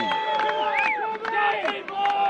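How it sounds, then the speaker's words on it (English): A football crowd erupts in loud, sustained cheering and shouting after a goal at Cummins Park during an A Grade grand final, with whoops and voices layered over a dense roar throughout. "Crowd goes wild here at Cummins Park."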